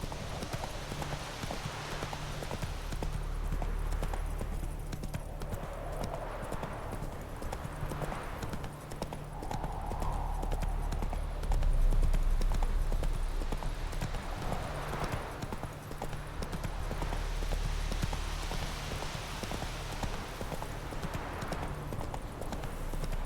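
A horse's hooves clip-clop in a steady walking rhythm in The Witcher 3, continuing for over twenty seconds under a low ambient game hum.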